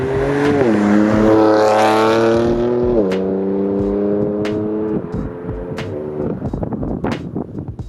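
A BMW car with an S55 engine revs hard in close, loud bursts, its exhaust rising and falling through gear changes, followed by sharp pops and crackles as the throttle lifts.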